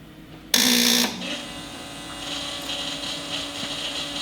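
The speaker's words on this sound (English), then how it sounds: "Alright, let's give this thing a crank." Jeep rock crawler engine turning over on a weak battery, a loud half-second burst of cranking that cuts off, followed by a quieter steady hum.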